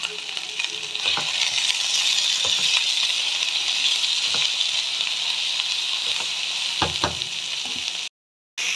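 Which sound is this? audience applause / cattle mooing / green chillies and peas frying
green chillies and peas frying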